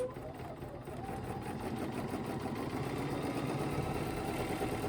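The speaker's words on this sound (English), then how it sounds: "all I'm going to do is stitch right along" A sewing machine runs in a steady, continuous mechanical whir, stitching a quilt block along a drawn center line during ruler work, loud and close with no talk over it.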